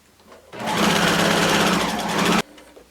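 A sewing machine runs a zigzag stitch on slippery knit fabric for a quick blouse, a loud, close mechanical whirr that starts abruptly, holds steady for about two seconds and cuts off cleanly.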